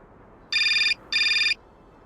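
A telephone rings twice in Syberia Remastered, two short electronic bursts of the same length separated by a brief pause, clear and alone over quiet background hiss.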